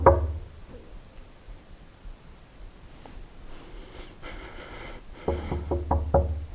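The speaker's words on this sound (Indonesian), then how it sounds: "Mereka kemudian mendekati ruangan tersebut dan mengetuk pintunya." Knocking on the door of a closed room: a cluster of sharp raps at the start, quiet rustling in between, then a rapid burst of several knocks near the end, with no talking.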